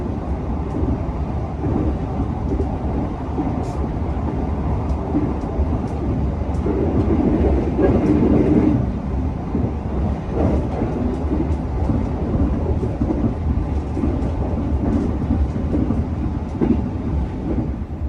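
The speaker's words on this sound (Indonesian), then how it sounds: "Perjalanan kereta api Argo Muria kini telah tiba di stasiun Pekalongan sebagai stasiun singgah terakhir" The Argo Muria passenger train rolls along the rails near Pekalongan, with a continuous loud rumble and faint rhythmic clatter heard from inside a carriage, without talk.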